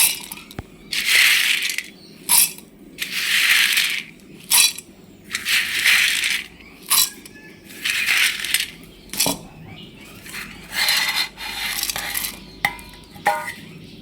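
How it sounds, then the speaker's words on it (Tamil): A mixer grinder whirs in short, harsh bursts, roughly a dozen spurts with pauses between, as roasted gram rattles and crushes into powder inside the jar. "மிக்சி கொடுத்து மாடையை நான் பவுடராக அடிச்சுக்குவோம்"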